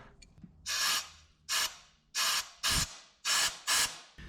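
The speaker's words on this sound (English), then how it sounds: "I want to spray those chunks out" Compressed air or spray bursts clear debris chunks from stripped threads during repair work on a 1967 Toyota pickup, six loud hissing blasts of roughly half a second each separated by short pauses.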